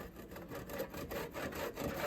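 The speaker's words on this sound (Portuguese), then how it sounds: "com o serrote eu dou uma desbastada nela aqui em cima" A handsaw rasps steadily across a wooden piece, trimming it down for a barbecue roof; the quiet, even back-and-forth strokes run continuously at close range.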